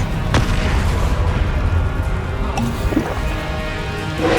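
Confringo spell explosions in Hogwarts Legacy go off as a few sharp bursts and booms over a continuous rumbling battle din, with one early pop and more toward the end.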